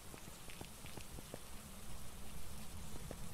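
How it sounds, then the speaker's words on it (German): Steady rain in the game Phasmophobia patters across a surface, with scattered individual drops standing out against a continuous hiss, holding at a moderate level throughout. "hier regnet's."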